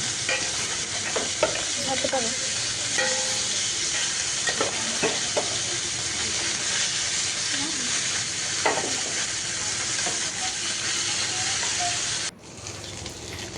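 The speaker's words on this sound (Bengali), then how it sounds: "এখন সুরমা মাছগুলো ভেজে নিচ্ছি।" Surma fish fry in a pan with a loud, continuous hissing sizzle and occasional spatter pops, close to the mic, until the sizzle drops away sharply near the end; nobody speaks.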